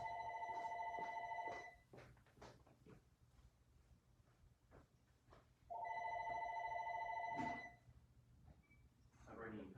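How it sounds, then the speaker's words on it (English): Telephone ringing twice in electronic trilling bursts separated by a pause, with voices talking between the rings. "it looks like I got a phone call really quick"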